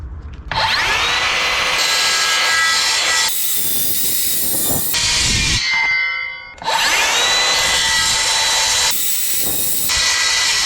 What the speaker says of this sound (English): We're gonna be using the skill saw and we're gonna cut multiple passes.